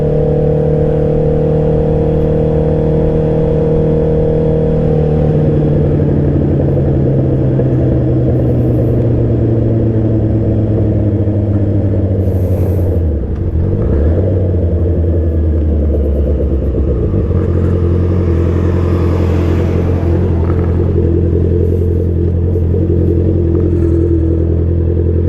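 A motorcycle engine drones loud and close, with steady road rumble and a low engine hum that shifts pitch as the rider changes speed. It runs continuously for the whole stretch and no one talks.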